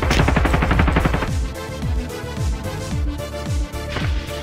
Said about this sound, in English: Okay, he just shot me in the head.